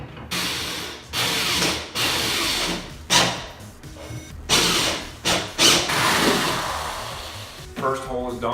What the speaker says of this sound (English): We use a 1 1/4 inch hole saw.